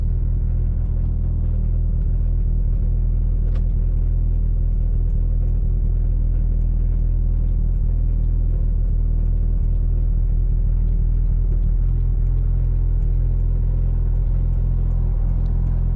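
A car cruising with a steady engine drone and a constant whine from the transmission, loud and continuous throughout.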